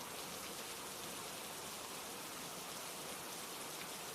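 Steady rain falls continuously, a dense even hiss of drops on surfaces with no voices, soft and unbroken throughout.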